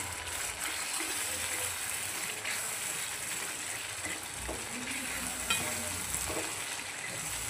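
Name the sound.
mutton being sautéed in masala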